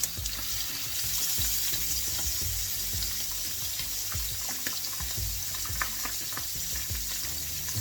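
Mackerel coated in masala fries in hot oil, a steady close sizzle with crackling pops throughout, no voices.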